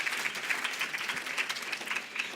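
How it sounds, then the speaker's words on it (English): An audience applauds at a women-and-leadership event with Senator Marsha Blackburn, steady, fairly quiet, dense clapping from a crowd that continues throughout. "that does deserve applause."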